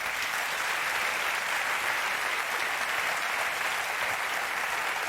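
Sustained applause from a large talk-show studio audience, a dense steady wash of clapping that holds at the same loudness throughout.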